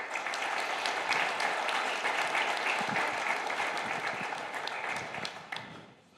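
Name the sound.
audience applause welcoming guests on stage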